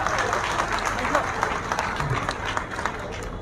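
Crowd applause welcomes a guest at a political gathering in Gorakhpur, a busy patter of many claps with sharp individual hits, a voice or two faintly mixed in underneath.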